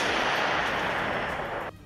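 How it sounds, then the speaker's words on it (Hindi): Russian artillery guns firing shells among trees: a dense, loud roar of blast noise sustains, then abruptly cuts off into quieter rumble. "रूसी सैनिक इस घातक हथियार से दुश्मन के ठिकानों और अमेरिकी तोप पर दनादन गोले दागते"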